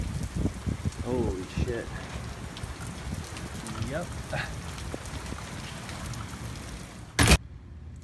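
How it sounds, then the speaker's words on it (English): Heavy rain pours outside an office, a constant broad hiss under a man's brief exclamations, with a sharp loud crackle near the end. "That's not static, that's rain."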